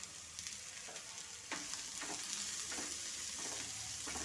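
Chopped green beans sizzle and hiss steadily in a hot pan with capsicum, with a loud, continuous fry and scattered soft stirring scrapes, no voices.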